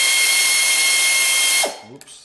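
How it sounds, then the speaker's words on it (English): A power tool, likely an impact driver or drill, works on a bolt on a 1976 Corvette, a loud steady high whine for over a second that winds down abruptly into a few faint clanks. "I'm going to try to do this with power tools to make it quicker"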